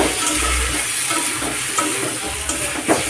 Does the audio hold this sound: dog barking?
no